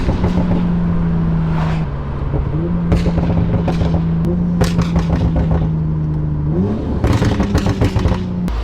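A Toyota Supra MKV exhaust revving at higher RPM, loud and close, with a droning tone that holds, dips and then climbs sharply near the end, plus crackly pops and clatter.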